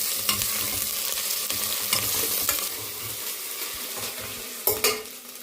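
Curry leaves and ginger-garlic paste frying in a pan for a pressure-cooker chicken curry, with a steady hiss and crackle, spatula scrapes and stirring clinks throughout, plus a sharper burst of sizzle near the end.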